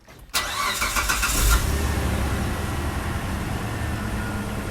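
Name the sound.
2004 Mitsubishi Pajero GDI engine starting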